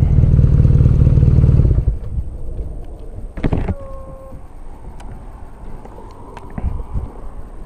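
A BMW R nineT with a 1200 cc boxer twin and shaft drive idles loudly up close for about two seconds, then shuts off for parking, followed by a few light clatters and wind noise.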